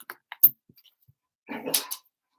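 A dog barks indoors, giving a short yelp early on and then one louder, rougher bark with a whine near the end, close by in an otherwise quiet room.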